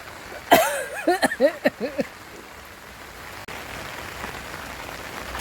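A brief burst of laughter, then a steady, even hiss of rain falling continuously.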